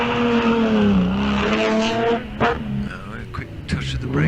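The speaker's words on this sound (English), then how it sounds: "Oh, a quick touch of the brakes, how interesting" Vintage racing car on a hillclimb course, engine note dipping as it brakes briefly before pulling away, heard at moderate distance under continuous commentary speech.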